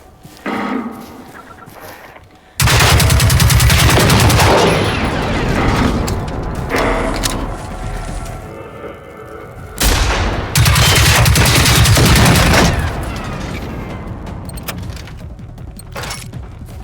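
Weapon fire in Generation Zero, two long loud bursts of rapid shots close by, each tailing off with echoing rumble, separated by quieter stretches.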